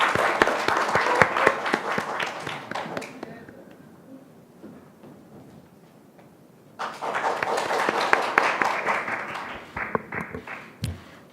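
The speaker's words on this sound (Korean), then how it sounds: "박수로 맞아주십시오." Audience applause in a hall greets a teenage student speaker at a youth speech contest, loud bursts of clapping fading to a quiet lull around the middle, then swelling again into a second strong round.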